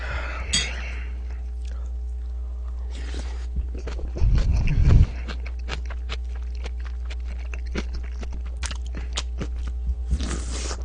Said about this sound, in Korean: 아삭아삭 씹히는 게